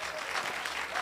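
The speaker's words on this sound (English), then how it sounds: "a round of applause" Applause from an audience honoring an award recipient at a Caribbean anti-trafficking committee event, a steady dense patter of many hands clapping close and fairly loud, filling the whole moment with no voices over it.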